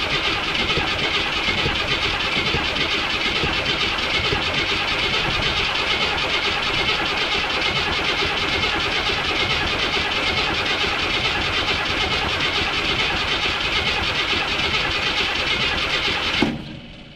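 A Jeep J10 engine running on a gas can fuel line, heard as a steady, loud mechanical drone that holds at an even level and cuts off abruptly just before the end.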